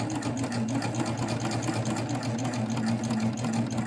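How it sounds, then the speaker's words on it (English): Sewing machine fitted with a binding attachment stitching a short run, a close, steady mechanical whir with rapid needle chatter, continuous and even, with no voices. "I'm going to lower the presser foot and sew it a little bit."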